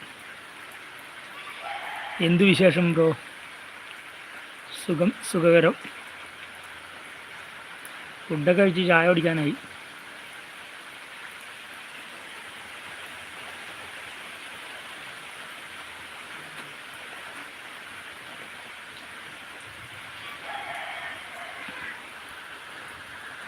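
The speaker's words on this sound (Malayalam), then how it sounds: "ആ ബ്രോ മഴ ഇവിടെ നല്ല ഇവിടെ നല്ല മഴ" Steady, even rain hisses outdoors as a soft, continuous wash throughout, with a few short stretches of nearby talk over it.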